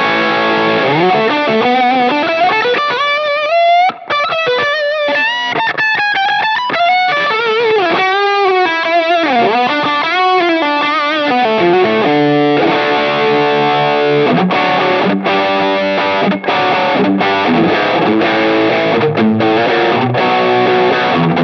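Electric guitar played through a Line 6 Helix Lone Star amp model with a level boost for solos, a loud distorted lead line of bending sustained notes followed by choppy rhythmic chords.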